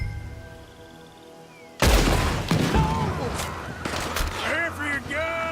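Gunfire erupts in Red Dead Redemption 2 after a quiet lead-in, a sudden loud burst followed by repeated shots and booms, with voices shouting amid the volley.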